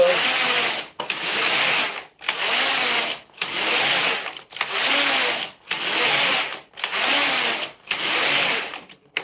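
A knitting machine carriage sweeps back and forth in a steady rhythm, eight or so rasping, whooshing passes of about a second each, separated by brief gaps, close and fairly loud with no talking.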